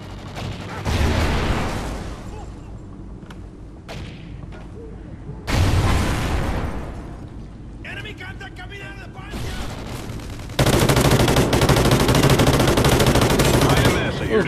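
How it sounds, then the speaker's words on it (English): Gunfire in the video game Call of Duty Ghosts: bursts of automatic fire and single shots recurring over the stretch, loud and close, with a heavy sustained barrage near the end. "Alright, pick up this gun. Let's see how this one shoots."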